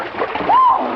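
A person plunges into deep water with a short splash and gurgle, close and loud, set in an old radio drama scene.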